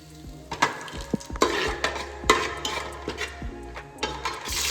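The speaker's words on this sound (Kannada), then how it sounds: "ಬರೀ ಜೀರಿಗೆ ಹಾಕ್ತಾಯಿದ್ದೀನಿ. ಹಾಗೆ ಒಂದು ಸ್ವಲ್ಪ ಪಲಾವ್ ಎಲೆ" Cumin seeds and a bay leaf frying in hot oil for onion rice, soft sizzling under repeated clinks and scrapes of a spoon against the pan, close and fairly quiet.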